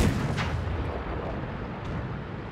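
Tank gun fire in World of Tanks with a T-30 in the battle, a dense rumbling boom that fills the whole stretch with steady low-end roar and a couple of faint distant cracks.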